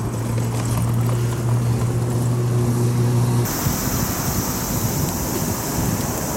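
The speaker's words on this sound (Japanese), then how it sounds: "南から風が吹いてきます。" Steady outdoor wind rush from the south in summer evening Hiroshima near Sumiyoshi Bridge on the Motoyasu River, a continuous broadband roar with a low hum early on, loud and close with no voices.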